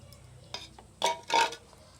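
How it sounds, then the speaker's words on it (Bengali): Thinned mustard and poppy seed paste is worked through a sieve while cooking hilsa, giving a few short metallic scrapes and clinks against a quiet kitchen background. "আর এখন পাতলা করে গুলে নিচ্ছি ছাঁকনি দিয়ে সেঁকে নেবো"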